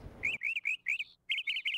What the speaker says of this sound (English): All these birds outside are giving me such a headache.